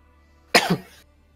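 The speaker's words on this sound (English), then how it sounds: "A loud cough erupts in the distance." A single loud, sharp cough, harsh and close, standing alone against a quiet background and then fading quickly.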